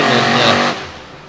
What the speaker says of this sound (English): Another one running the big 540 cubic inch Kevin Stauffer racing engine